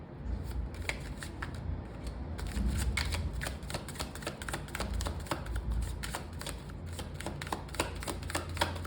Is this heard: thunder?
no